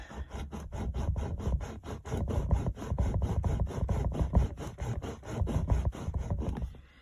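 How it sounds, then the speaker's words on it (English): A knife sawing back and forth through plastic container material, producing a fast, regular rasping stroke rhythm, close and steady for several seconds with no talking. "I'm actually going to use a knife, and I'm going to just start sawing."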